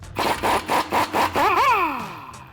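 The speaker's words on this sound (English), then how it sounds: "we're gonna pick up our 21mm deep socket and we're gonna loosen it and remove the nut holding on our tie rod end" A tool turns a 21mm deep socket to loosen the tie rod end nut on a 2019-2024 RAM 1500, giving close, loud, rhythmic whirring bursts followed by a longer spin that winds down in pitch.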